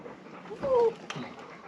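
Dogs panting close by on a Southwest backcountry trail, a short burst of quick breaths with a brief high whine mixed in, while people talk nearby.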